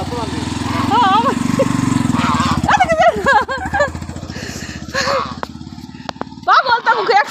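A motorcycle engine drones close by with a steady pulsing putter that fades and cuts out near the end, while several people shout and talk over it and a dog barks.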